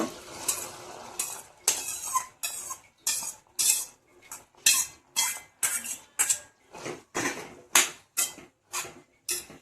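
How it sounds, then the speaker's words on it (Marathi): Sweet corn stirred into melted butter in a pan, heard as a series of distinct metal spoon scrapes and clinks against the cookware in an irregular rhythm, close and fairly quiet, with no voices. "बटर छान मेल्ट झालेलं आहे. त्यामध्ये आता हे आपल्याला स्वीट कॉर्न टाकून घ्यायचे."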